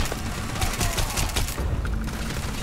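Rapid automatic gunfire in the space game Starfield, dense bursts of shots crackling loudly in a continuous fusillade for a few seconds, thinning out toward the end.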